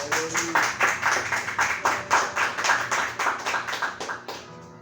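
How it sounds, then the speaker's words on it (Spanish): A church congregation claps loudly and steadily in a fast, even rhythm, the applause filling the room for about five seconds before fading at the end. "¿Cuántos pueden alabar al Señor con un fuerte aplauso?"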